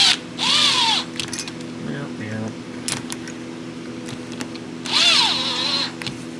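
A power tool tightens a carburetor part on a Craftsman snow blower, two short whirring bursts that spin up and wind down, separated by a few seconds of quieter workshop background.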